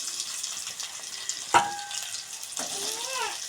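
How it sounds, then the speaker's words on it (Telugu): Raw mango pieces fry in a spice tempering for mango coconut chutney, a soft continuous frying hiss broken by a sharp utensil clink and a few faint squeaky tones, with no speech. "ఇప్పుడైతే మామిడికాయ ముక్కలు అయితే వేసేసుకుందాము."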